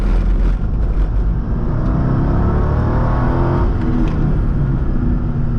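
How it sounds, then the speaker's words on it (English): Car engine revving hard under acceleration in a track and canyon build during a first drive, a loud sustained roar from inside the car with a rising whine, matching a second gear grind. "there's that second gear grind"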